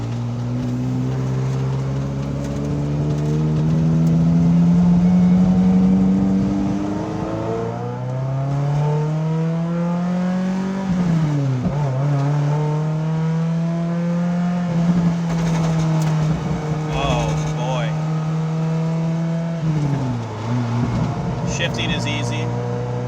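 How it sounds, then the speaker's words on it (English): 1995 Ferrari F355 Challenge race car engine driving, heard from inside with a loud, rising high-revving wail through the gears, pitch climbing and dropping at shifts, with someone talking over it. "This is arguably one of the best sounding Ferraris that they've ever produced"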